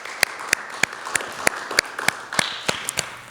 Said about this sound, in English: So if we could just give them a round of applause for what they do